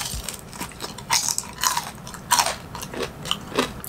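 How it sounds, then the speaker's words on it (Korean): A sweet dumpling dipped in spicy sauce is bitten and chewed up close, giving a run of wet, crisp mouth bursts at an uneven rhythm over about four seconds, with no talking. "요 만두가 그렇게 맛있다는데 한번 소스에 이렇게 찍어갖고 먹어보도록 하겠습니다."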